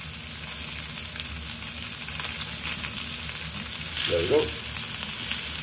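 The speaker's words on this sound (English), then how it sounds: "good hot pan, get a nice little sear on it" Tuna sears in a hot pan with a steady, close sizzle that swells briefly near the end, while someone speaks a few words over it.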